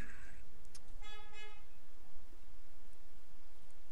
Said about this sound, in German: Ich frage mich, ob ihr jetzt gerade das Hupen gehört habt